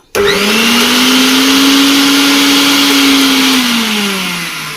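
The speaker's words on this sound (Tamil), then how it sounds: "அருமையாக மிக்ஸி ஓடுது" A repaired Preethi Blue Leaf mixer grinder starts abruptly and runs with a loud, steady whir, its pitch holding constant before easing slightly toward the end.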